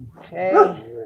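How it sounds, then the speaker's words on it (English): A pet dog gives one short, close bark with a whiny edge, right after a brief spoken word, outdoors while sidewalk pavers are being laid. "That's my dog."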